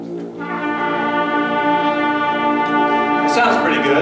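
A high school instrumental band holds a sustained, unresolved chord at steady volume for about four seconds, with a brief brighter swell near the end.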